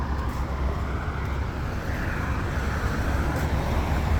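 A family car driving along a road during Eid, with steady broadband engine and road rumble heard from inside, continuous and fairly loud throughout with no talking.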